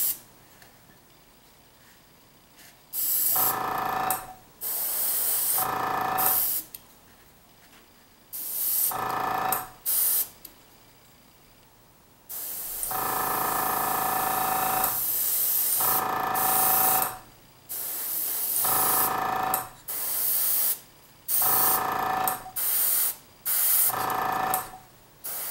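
Airbrush hissing in repeated bursts as a base coat goes over black primer on ogre army miniatures, short and long sprays separated by silent gaps, close and steady, with no talking.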